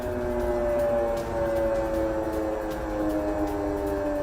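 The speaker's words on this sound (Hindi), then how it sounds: "पूरे यूक्रेन में गूंज रहे वॉर सायरन" A steady, droning air raid siren wail holds a sustained tone throughout, loud and continuous against a faint background rumble, sounding during wartime in Ukraine.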